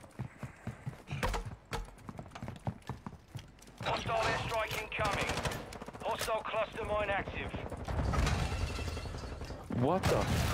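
Video game gunfire during an online shooter match, rapid bursts of shots and sharp cracks mixed with busy battle noise and effects, with players talking over the action.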